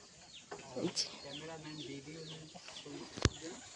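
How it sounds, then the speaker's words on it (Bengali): Tied-up hens in a small home farm clucking at close range in short, repeated calls, while a person talks over them and a sharp knock cuts in near the end. "আমার ছোট খামে মুরগি পালে বাইন্দা রাখছে"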